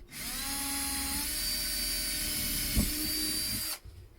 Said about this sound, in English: drill a small 2mm pilot hole on it